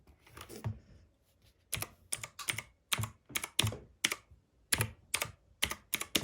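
Typing on a Rampage Ally K11 keyboard, close and clear: bursts of quick keystrokes separated by short pauses, each clack distinct in an otherwise quiet room.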